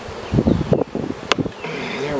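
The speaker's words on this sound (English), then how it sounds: "shake the bees off" Italian honey bees swarm around an open hive as it is worked. A close buzzing drones on with bumps and a sharp knock partway through, and a voice murmurs faintly beneath it.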